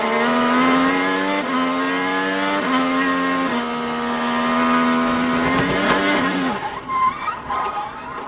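An IndyCar engine screams at high revs from onboard at Road America, upshifting in quick steps, then the note breaks up into ragged stutters as the car runs wide into the grass and loses the rear.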